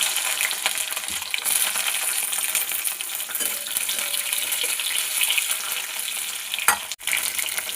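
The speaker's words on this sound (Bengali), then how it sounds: "কড়াইতে সরষের তেল দিয়েছি, এবার ওর মধ্যে গোটা জিরে, তেজপাতা," Cumin seeds, bay leaf, dried chilli and capsicum sputter in hot mustard oil in a wok with a loud, continuous close sizzle, crackling throughout, with one sharp pop near the end.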